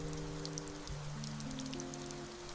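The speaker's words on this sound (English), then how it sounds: "A light rain fell, washing away dirt and waste back into the familiar river." Light rain falls steadily, a soft continuous patter of drops heard faintly under sustained low musical tones.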